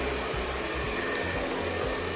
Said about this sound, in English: then you're just gonna blow dry it right in with your Vision blow dryer